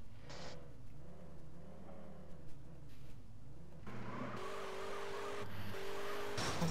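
Car engine in the video game SA-MP, idling and revving steadily at moderate distance, then a louder burst as it picks up with a higher whine toward the end, with no talk.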